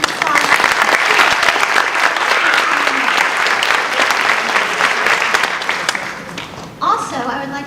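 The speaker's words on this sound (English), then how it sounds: "So let's just give a round of applause." Dense, sustained audience applause at an adult education graduation ceremony, loud and even throughout, with a voice starting to speak near the end as the clapping fades.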